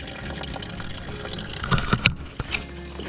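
Coolant the color of apple juice draining from the drain plug of a Subaru GC8, a steady watery trickle with a few louder splashes and drips near the mic.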